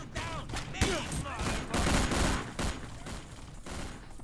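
Heavy-recoil gunfire in the video game El Matador, a rapid run of close, punchy shots with scattered brief voices mixed in, fairly loud and steady across the few seconds.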